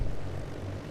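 Engines of a Hughes H-4 Hercules flying boat keep running after a dead-stick landing on the Hudson River, giving a steady low droning rumble that holds loud and close for about a second, with no talk over it.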